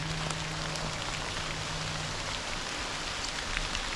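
Steady rain falls through autumn woods, a dense, even patter of drops on leaves heard up close, with no voices.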